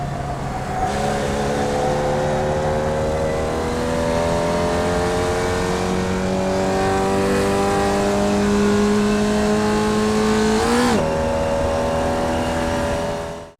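A Formula Vee race car in iRacing runs at full throttle at Summit Point, its engine a loud, steady rising drone that climbs in pitch, breaks sharply at a gear change, then climbs again, with no voices.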